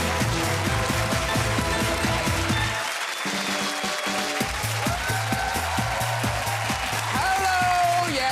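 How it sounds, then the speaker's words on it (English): Clapping from the studio audience of the Graham Norton Show, a sustained wash of applause under a steady musical beat that runs throughout, with a voice speaking over part of it. "We're clapping ourselves."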